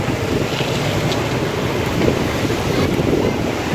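Steady ocean surf and gusting wind at Pantai Panjang beach in Bengkulu, a continuous loud wash of breaking waves mixed with wind buffeting the microphone, with no voices.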